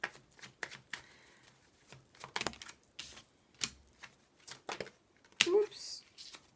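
Oracle cards from an amethyst Love deck shuffled and drawn, giving a run of quick papery flicks and snaps, close and fairly quiet, with a brief exclamation near the end.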